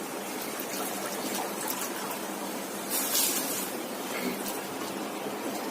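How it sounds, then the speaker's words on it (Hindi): A pot of water at a full boil for biryani rice gives off a continuous bubbling, rushing hiss at moderate level, with a slightly stronger surge partway through. "अब आप देख रहे हैं कि हमारा पानी पूरा बॉईल हो चुका है।"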